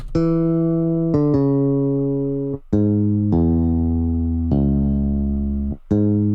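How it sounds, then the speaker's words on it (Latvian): A smooth, round synth bass plays a slow sequence of sustained notes, each starting softly and holding steady, with no other sounds. "soft finger bass, kas izklausās šādi"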